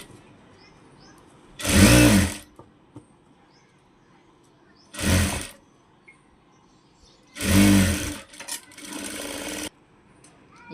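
A sewing machine stitches the waistband of a size 28 princess-cut blouse in three bursts of loud, close, steady whirring of about one to two seconds each, separated by near silence and soft handling.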